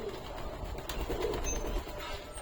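Pet pigeons of fancy breeds such as Madrasi, kept at home and freshly bathed, coo softly and continuously at close range beneath a steady background hiss.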